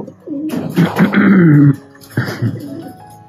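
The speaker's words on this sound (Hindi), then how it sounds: "देखो वो कबूतर आ गया ना ऐसे और कबूतर आएंगे" A pigeon coos up close, two bursts of soft throaty warbling calls separated by a brief pause.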